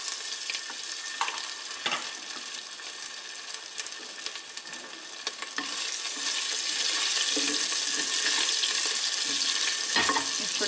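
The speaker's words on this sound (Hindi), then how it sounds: "फिर मैं डाल रही हूँ इसमें 1 इंच अदरक का टुकड़ा, जो कि मैंने अच्छे से उसको ग्रेट कर लिया है।" Grated ginger and green chili sizzle in oil with cumin in a pan, a continuous bright crackling fry with occasional stirring scrapes that grows slightly louder partway through.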